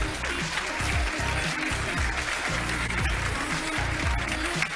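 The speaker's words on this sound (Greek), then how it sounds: "ένα χειροκρότημα για τους εκπαιδευτικούς" Steady applause from an audience honoring teachers at a school awards ceremony fills the whole stretch, a dense, even patter of many hands at moderate volume with no voices on top.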